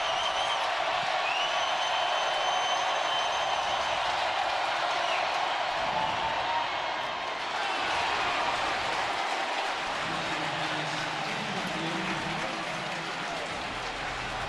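A packed NFL stadium crowd in New Orleans roars steadily during a Tampa Bay at New Orleans football game, a dense, loud and continuous wash of cheering and noise that swells slightly in places.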